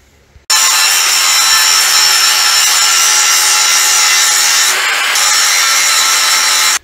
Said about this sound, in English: Let's grind on it a little bit,